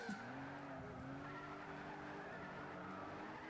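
Race car engines droning and tires squealing in Gran Turismo 6 during an endurance race on Trial Mountain, a continuous faint mechanical whine with sustained skidding tones.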